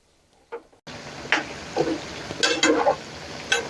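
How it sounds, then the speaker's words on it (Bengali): Vegetable sticks fry in hot oil over medium-high heat, a steady sizzle broken by soft clinks and stirring scrapes as they are turned, close and moderately loud after a brief quiet start. "গ্যাসের আঁচটা মিডিয়াম থেকে হাই আঁচের মাঝামাঝি রেখে উল্টে পাল্টে ভেজে নেব"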